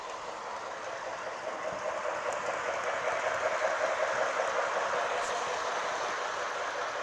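A small O-scale Lionel model Polar Express train rumbles and clatters along a track in a continuous rolling hum, swelling slightly as it passes, fairly close.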